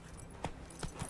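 Horse hooves trotting in The Witcher 3, with three soft, spaced clip-clop thuds that sound faint and a little distant over a quiet background.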